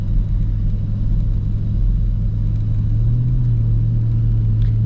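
A custom Ford Raptor R truck drives under steady load, its engine giving a continuous, smooth low rumble close by with no speech, swelling slightly as torque builds partway through.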